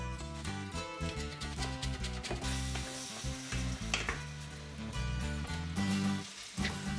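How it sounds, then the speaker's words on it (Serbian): Chicken fries in a pan with a steady close sizzle, heard under a layer of tonal background music with no talking. "Dok nam se prži piletina"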